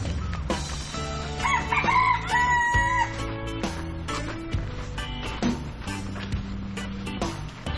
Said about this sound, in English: Bunch of chickens eating the garbage.